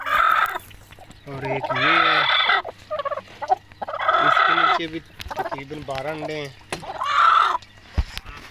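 Several chickens cluck and call loudly nearby in repeated bursts, with a person talking briefly between them.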